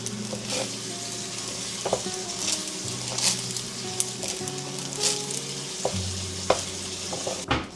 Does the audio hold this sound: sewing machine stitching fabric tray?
no